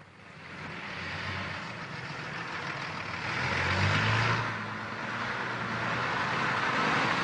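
A bus used as a mobile youth club, disco and course venue in Iisalmi, its engine droning steadily as it drives and swelling briefly as it accelerates. No one speaks.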